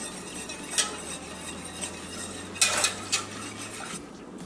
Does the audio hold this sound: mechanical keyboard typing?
no